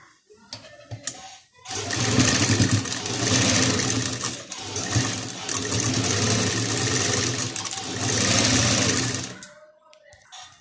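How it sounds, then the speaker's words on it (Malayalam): A sewing machine stitches a fabric table top mat in a steady whirring run of about eight seconds with slight speed changes, framed by brief handling clicks at the start and finish. "ഈ ഭാഗം നമുക്കൊന്ന് സ്റ്റിച്ച് ചെയ്ത് കൊടുക്കാം"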